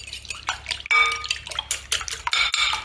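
Eggs whisked in a bowl for the green layer of a steamed sticky rice and custard cake, giving quick clinking, tapping strokes with wet splashy texture, close and moderately loud, with no talking.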